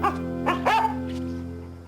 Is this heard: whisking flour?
no